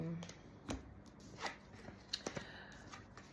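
Soft, irregular papery riffles and taps of cards being shuffled close by, a few sharper snaps near the end, fairly quiet overall.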